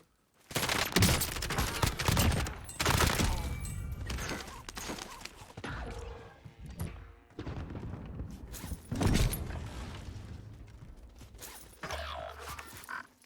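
Berliner gunfire in Modern Warfare Warzone: repeated loud close bursts of automatic fire with sharp transients, separated by short pauses and mixed with mechanical clatter and creaks.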